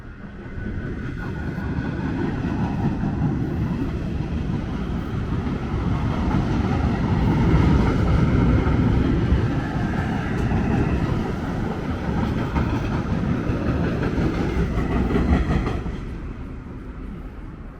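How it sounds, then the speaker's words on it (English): A New York City subway Q train rumbles past steadily for most of the clip in Brooklyn, a loud continuous roar with faint rail clatter that fades away at the end. "that was the Q train"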